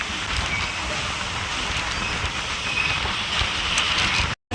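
Rain falls steadily in a broad, even hiss with soft patters and a low rumble, continuous and fairly loud, briefly cutting out just before the end.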